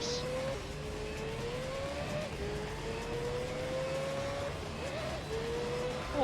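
The LMP Dragon race car in Gran Turismo 3 whines through its engine note, pitch rising and dropping through gear changes and braking, with a climbing rev near the end and occasional faint talk underneath.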